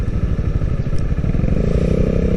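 A Honda CB250R motorcycle being ridden, its engine droning loud and close under steady wind noise, with a rising pitch near the end.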